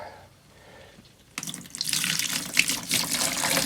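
Liquid pours steadily into an RV sink drain to flush the P-trap while winterizing a camper in Wisconsin. The splashing rush starts abruptly partway through and stays loud and close to the end.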